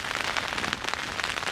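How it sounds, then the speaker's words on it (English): Rain pattering steadily on a tent during a fly-in caribou hunt in Alaska, a dense close drumming of drops on the fabric with no voices. "Getting rained on. And lots of wind."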